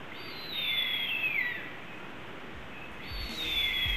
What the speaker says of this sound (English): the unmistakable call of an adult harpy eagle.